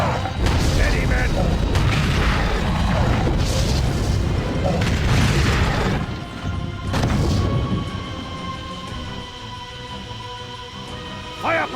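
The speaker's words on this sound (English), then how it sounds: "Fire broadside batteries!" Cannon fire from the Atoragon warship in the Wii game Godzilla: Unleashed: several loud, heavy booms with crashing, mechanical clatter, a few bursts close together early on. Shouted voices mix in before things fade to lighter rumbling.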